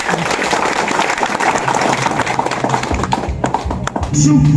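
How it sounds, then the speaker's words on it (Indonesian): A student study-tour group in Tigaras, Parapat, near Samosir, claps after a first gondang music performance; the close, dense applause fills the first few seconds, then thins as other sounds take over, with talk underneath. "Kasih dulu tepuk tangan."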